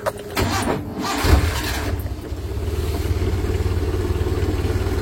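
The 1000cc engine of a Suzuki Carry is cranked and catches, then settles into a steady, close idle with an even low rumble that continues to the end.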